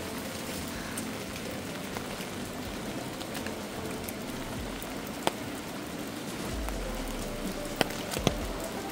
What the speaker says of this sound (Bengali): বৃষ্টি পড়ছে বলে একটু আস্তে আস্তে ওঠানামা করছি।